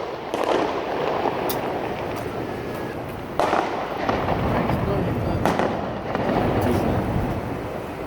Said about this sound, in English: Fireworks leftovers.